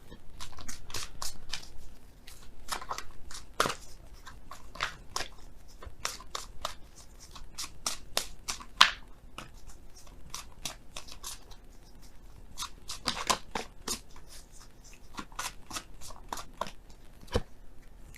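Oracle cards being shuffled by hand, a long run of crisp card clicks and riffles in irregular bursts, close and fairly quiet with no talking.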